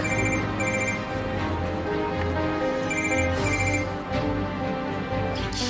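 A phone rings continuously with a repeating electronic ringtone melody, loud and close, with layered tones pulsing in a steady pattern throughout.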